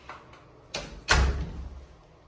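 A hotel room door in a Hanoi hotel swings open with a dull thud followed by a louder knock and a rattling, close-up latch sound, both short and set against quiet room tone.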